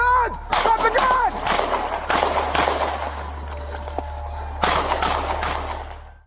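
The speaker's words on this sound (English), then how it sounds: "Upon parking, Tillery immediately opened fire on the officers." Gunfire during a police bodycam shooting, several sharp loud bangs spread across the scene amid shuffling movement, radio chirps and noisy background, with brief pauses between shots.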